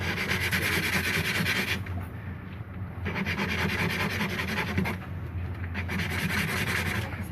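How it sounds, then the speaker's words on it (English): Close, steady back-and-forth rubbing of a small dice being sanded by hand, a dense gritty rasp in continuous strokes with two brief softer pauses, no talk. "This isn't normally how I would sand a tiny bale, but you work with what you've got."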